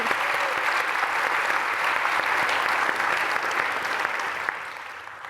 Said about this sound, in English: a lot of these folks are here, so we should applaud